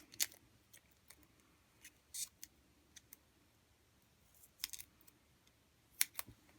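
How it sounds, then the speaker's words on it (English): Scissors snipping thin foam tape for a layered paper-craft landscape, with sparse short crisp cuts spread out over several seconds, quiet and close with no talking. "Scissors are sticking."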